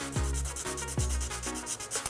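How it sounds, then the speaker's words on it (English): Sandpaper rubs back and forth over a cured art resin surface, roughing it up in about four rhythmic strokes, close and fairly quiet, with no talking. "we're gonna sand this down, these areas here"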